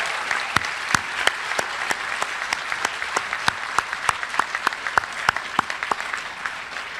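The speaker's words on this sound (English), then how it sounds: "how about a round of applause for the amazing class of" Audience applause at a school class of 2025 commencement, a continuous bed of clapping from a crowd with sharper individual claps standing out repeatedly throughout.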